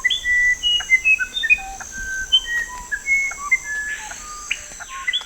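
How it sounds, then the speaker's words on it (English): Musician wren singing in a tropical rainforest: a clear, close series of pure, flute-like whistled notes at shifting pitches, spaced irregularly over a steady insect hum. "to the otherworldly melodies of the musician wren."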